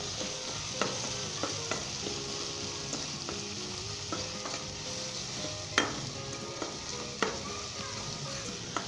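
Potatoes and moong frying in a pan with cumin, turmeric, cinnamon and salt, a continuous soft sizzle under frequent clinks and scrapes of a spoon stirring, close and moderately quiet, with no talk.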